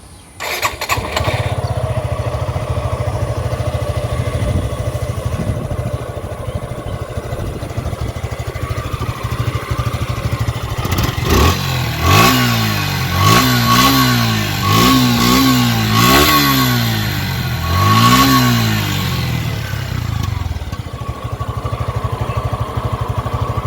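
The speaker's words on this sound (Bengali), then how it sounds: "এবং ইঞ্জিন সাউন্ড আপনাদেরকে শোনানো হবে" A used Suzuki Gixxer SF ABS motorcycle idles steadily, then its engine is revved in four or five quick rising-and-falling bursts before settling back to a smooth, even idle, recorded close up with no talk.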